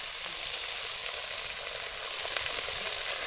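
Simmer sauce sizzles in a pan over a campfire outdoors, a steady, bright hiss that holds level the whole time, close and continuous with no talk.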